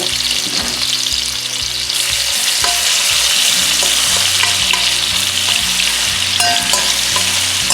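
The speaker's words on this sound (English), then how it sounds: "and just kind of roast that garlic, and then put our onions." Garlic sizzles and fries steadily in a hot pan, a constant close crackle with occasional stirring clatter as it cooks for beef vegetable egg rolls, with no talking.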